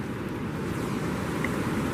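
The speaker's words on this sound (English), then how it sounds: "Look at that waves running into the estuary." Waves run into the St Lucia estuary mouth, a continuous moderate surf wash mixed with light wind noise and no talking.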